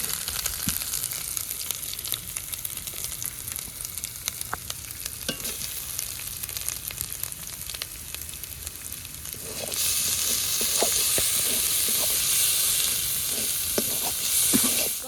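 Jackfruit mixture fries in a pan with cumin powder, coriander powder, dried and green chilli paste, salt and turmeric, crackling steadily with intermittent stirring scrapes, then swelling into a louder, brighter hiss for the final few seconds.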